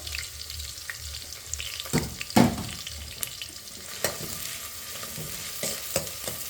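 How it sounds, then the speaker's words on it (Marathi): Onion and cumin sizzle in hot oil in a pan, a steady close frying hiss broken by a few scraping stirs and knocks of the spoon. "आता कांदा छान पैकी असा लालसर परतून घेऊ"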